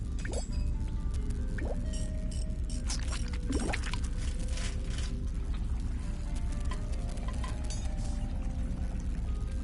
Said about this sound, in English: With the obstruction removed, I could hear water flow through the pipes to another part of the building.